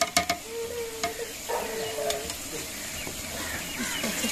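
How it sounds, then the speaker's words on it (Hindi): Spice masala and tomatoes are stirred in a pan in a village kitchen, with a steady sizzle under scraping strokes and a faint voice in the background. "इसको अच्छे तरीके से मिक्स करते हैं।"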